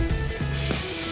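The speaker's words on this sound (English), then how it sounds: "Now you're going to spray your bowl with some oil so then the dough doesn't stick to the bottom." Cooking oil sprayed from a can into a mixing bowl before it is filled with cinnamon roll dough: a short, close hissing spray with light rubbing sounds, lasting about a second.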